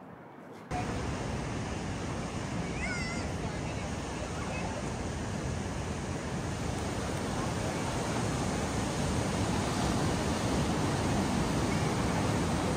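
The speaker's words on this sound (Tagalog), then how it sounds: "And look at the waves." Ocean surf rolls in at a surfing beach at Suffolk Park near Byron Bay, a constant broad wash of breaking waves heard alone, loud and unbroken after a quiet start.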